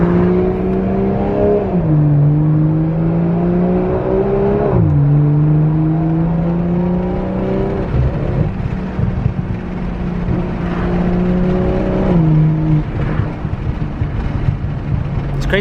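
Turbocharged Nissan 350Z making 800 wheel horsepower, heard from inside while driving: a loud engine drone climbs steadily through the gears, dips sharply at each of several shifts, then pulls up again.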